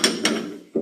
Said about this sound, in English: I'm tightening this in here now